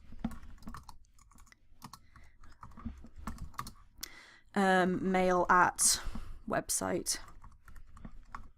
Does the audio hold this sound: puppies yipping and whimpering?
no